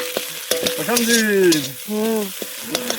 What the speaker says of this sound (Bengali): ঝুরঝুরা ভাজা ডিম আজকে